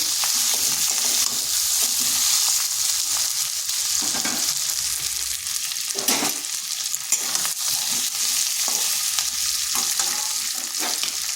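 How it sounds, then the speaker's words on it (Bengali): Diced onions sizzle steadily in a hot pan while being stirred to soften, with a constant close hiss and occasional soft scraping as the spoon moves through them. "এটা বেশ কিছুক্ষণ নেড়ে নেব, যাতে পেঁয়াজটা নরম হয়ে যায় একটু।"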